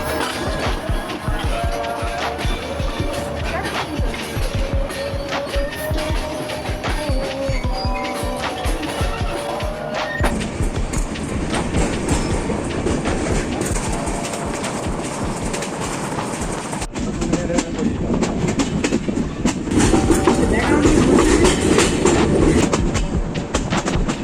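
A train runs on its rails in Bangladesh near Khulna, a steady loud rumble and rattle of the cars with a faint clickety-clack rhythm that continues throughout and swells louder near the end.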